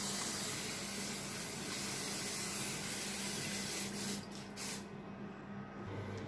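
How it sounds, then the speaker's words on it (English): Butter spray hisses steadily into a baking mold in a home kitchen, a continuous close aerosol spray that cuts off briefly near the end before resuming. "We're gonna start by spraying the baking mold with some butter spray"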